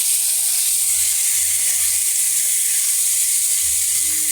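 Potatoes and spices, including Kashmiri chilli powder, frying in a pan for a Bengali fish curry, giving a loud, constant hissing sizzle with faint low thumps of stirring underneath and no talk.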